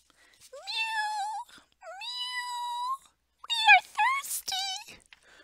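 A voice imitates crying cats while reading a picture book aloud, giving several drawn-out, rising meows in a row, each loud and close, with short pauses between them.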